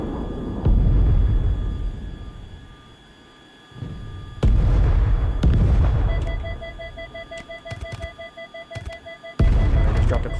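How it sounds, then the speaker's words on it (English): Cluster bombs dropped from an aircraft in Tiny Combat Arena: a string of deep booming blasts comes in uneven bursts over a droning engine, with brief quieter gaps between the hits. "I just dropped a cluster bomb on them."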